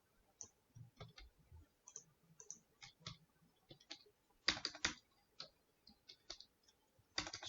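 Typing on a computer keyboard while coding JavaScript, close and quiet clusters of key clicks in irregular bursts with short pauses between them and a few louder rapid flurries.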